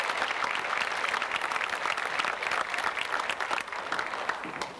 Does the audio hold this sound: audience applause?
yes